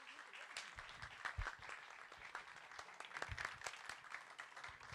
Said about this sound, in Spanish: así que un aplauso también para ellos.